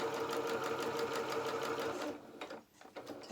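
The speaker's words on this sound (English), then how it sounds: "And then we're just going to sew that down." A sewing machine stitching a seam on a felt doll coat, a steady rapid close whir for about two seconds, then slowing and stopping briefly before a few more stitches.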